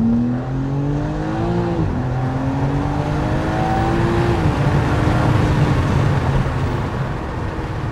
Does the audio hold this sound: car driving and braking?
yes